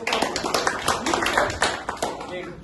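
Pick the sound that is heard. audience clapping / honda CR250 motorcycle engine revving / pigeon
audience clapping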